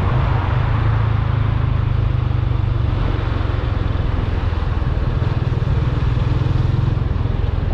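A motorcycle ridden along a road between Alphaville and Cotia, its engine droning steadily and loudly close by, with wind rush and rattle throughout and no talking.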